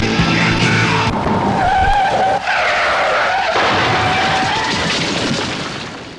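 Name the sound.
car skidding sound effect in a radio auto repair ad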